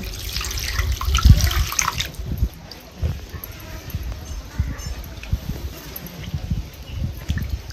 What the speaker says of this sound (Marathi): तर सगळ्यात अगोदर काय करते, ही कारले आपल्याला धुवून घ्यायचे।